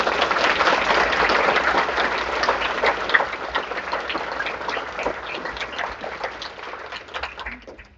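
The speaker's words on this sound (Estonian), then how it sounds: "Ja selles suured aplausid ja kindlasti väärib." Sustained applause from a crowd at a ninth-grade graduation ceremony, steady dense clapping that fills the whole stretch and tapers off slightly toward the end.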